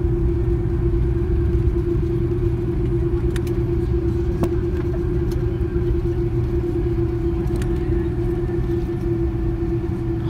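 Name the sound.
Iran Air Airbus A300 hard braking after landing at Heathrow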